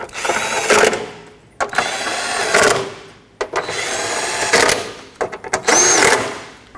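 Bolts on the radiator support of a 2005-2010 Pontiac G6 being tightened with a power tool, four loud whirring bursts of a second or so each, close up, separated by short pauses and no talk.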